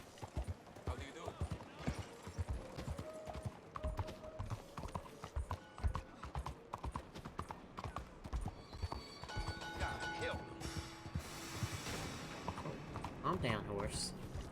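Horse hooves clip-clopping in the video game Red Dead Redemption 2, a steady run of rhythmic hoof beats with faint creaks, heard alongside someone talking.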